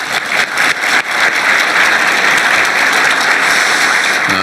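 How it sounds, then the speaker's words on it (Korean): A sizeable audience applauds at a Korean presidential event on major industrial investment: thick, continuous clapping that builds after a few uneven opening claps and stays loud and even throughout, with no talking. "박수로도 한번."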